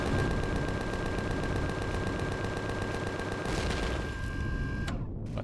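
Turret guns in Empyrion Galactic Survival fire in a rapid, continuous mechanical rattle of closely spaced shots that runs loud for several seconds, then stops abruptly.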